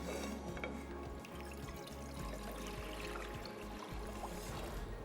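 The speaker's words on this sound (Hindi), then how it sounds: "पानी शामिल करते हैं इधर" Water poured into a pot to boil rice for biryani, a steady close splashing and gurgling pour lasting several seconds without pause.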